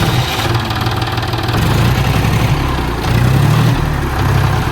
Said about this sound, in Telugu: సో ఇప్పుడు ఈ ట్రాక్టర్ని తీసుకోవాలి చలో పా